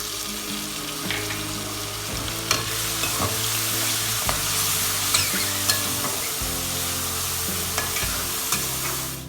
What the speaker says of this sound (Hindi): अब हमने इसमें लहसुन अदरक का पेस्ट ऐड कर दिया, उसको भी हम 1 से 2 मिनट के लिए फ्राई करेंगे।